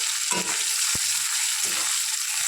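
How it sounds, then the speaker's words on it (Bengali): Chopped onions frying in hot oil with a little cumin in a pan, giving a steady, close hiss and crackle with a few soft stirring thumps. "এদিকে দেখো, পেঁয়াজটাকে ভালো করে ভেজে নেবো।"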